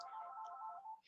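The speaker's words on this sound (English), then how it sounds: "Excuse the phone calls." A phone rings faintly in the background of a home knitting lesson, a single soft electronic tone held for about a second, quiet and somewhat distant.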